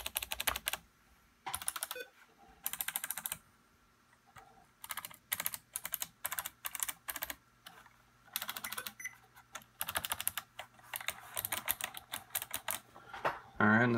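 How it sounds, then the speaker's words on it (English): Fast flurries of sharp, clicky keystrokes from a Razer Ornata Chroma keyboard, tapped close up in uneven bursts with brief gaps, ending in a few louder single presses. "Just a sound test on a few of the different main keys to see what it sounds like"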